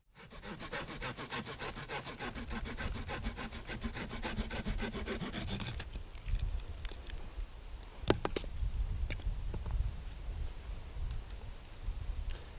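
A saw cuts down into a wooden stick below the V notches of a deadfall trap peg. Steady, rapid back-and-forth rasping fills the first half, then gives way to quieter scraping and a few sharp knocks.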